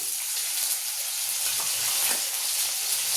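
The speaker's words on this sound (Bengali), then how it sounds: "সবজিগুলো দিয়ে একটু নেড়ে নেব, নুন হলুদ দিয়ে তো নেড়ে নেব।" Vegetables fry with onion in fish oil in a pan, a steady close hiss and sizzle with a light stirring rustle, brief and even in level, with no talking.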